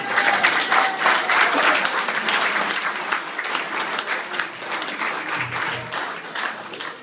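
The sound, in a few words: round of applause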